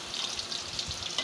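Chopped onion, cinnamon, cardamom and ginger-garlic paste fry in oil in a pot. A brief, faint, even hiss of sizzling plays alone.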